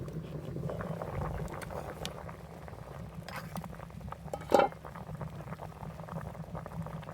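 Potatoes boil in a pot of water, a soft continuous bubbling and rumbling at close range with one short louder burst partway through, no voices.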